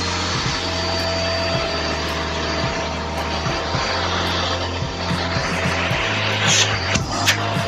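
A Eureka Forbes Quick Clean DX 1200W vacuum cleaner runs loudly and steadily, a constant close motor whine and roar with a few small clicks, no voices.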